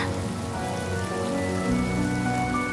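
Steady rain pours through a scene in Honkai: Star Rail, a dense, continuous hiss of drops on surfaces with a faint tonal music bed running underneath, no voices.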